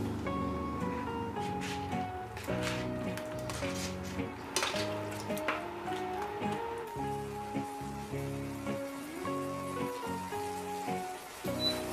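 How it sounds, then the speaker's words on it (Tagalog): Garlic butter shrimp, dampa style, sizzling and crackling steadily in a pan while being stirred, with a constant rain-like spatter and a few utensil clinks, under a faint musical background. "Lagay na natin yung ating shrimp. Hahaluin na natin ito ngayon."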